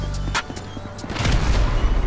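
Video game explosions blast a truck, a few sharp booms followed by a louder, rumbling blast, near and loud with no speech.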